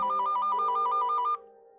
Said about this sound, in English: Aren't you gonna answer the phone?